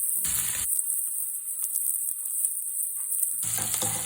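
Panch phoron, the Bengali five-spice mix, sizzles in hot oil with vegetables. A loud, close hiss breaks into crackling bursts at the start and again at the end, with no voices.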